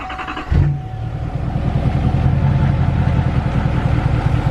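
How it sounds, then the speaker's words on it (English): L5P Duramax diesel pickup with a CP3 conversion and a fuel pressure problem cranks briefly and fires, then settles into a loud, close, rattly diesel idle with a steady low throb. "Try to start the truck up."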